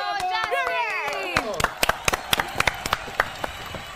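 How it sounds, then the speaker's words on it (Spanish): A studio audience on an Argentine morning TV show applauds a guest during a karaoke segment: sparse, sharp claps in an uneven rhythm follow an opening of rising whoops and cheering, with crowd murmur underneath. "Fuerte el aplauso del otro lado, damas y caballeros, para Justin."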